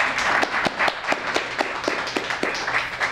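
An audience claps for a poet at a library poetry reading, a small crowd giving moderately loud, distinct individual claps in an uneven rhythm.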